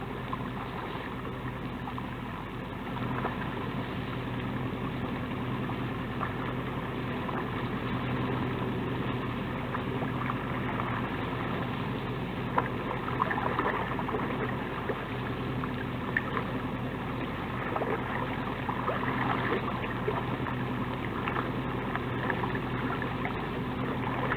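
Boats on the water in Plymouth Sound give a steady, distant low engine hum that drones on evenly, with faint splashes and knocks scattered through it.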